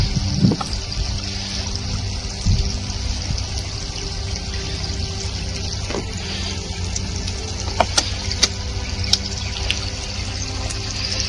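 Released water flows in a steady, continuous rush with light trickling, heard close and moderately loud with no talk over it.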